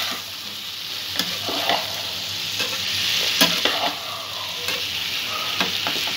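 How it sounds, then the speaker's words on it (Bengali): A spoon stirs yogurt-based jackfruit curry with cashew-raisin paste in a hot pan, giving steady soft sizzling and frying broken by scraping stir strokes. "আবারও একটু সব কিছু ভালো করে মিক্স করে নেব।"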